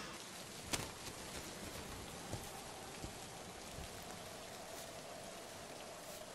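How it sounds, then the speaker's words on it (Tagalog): Soft, steady rain falling on a surface, with a few louder drips standing out against the constant patter. "Bago patuluyang bumuhos ang ulan!"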